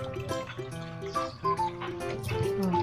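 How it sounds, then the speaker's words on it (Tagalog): Tap water runs and splashes while dishes are washed, a close, fairly loud stream with uneven spattering, clinking bursts throughout. "Medyo hinaan mo yung tubig mo kaya malakas masyado."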